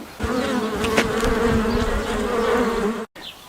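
A steady, loud drone of many bees buzzing close by from an overturned beehive, continuous and dense, cutting off abruptly near the end before resuming briefly.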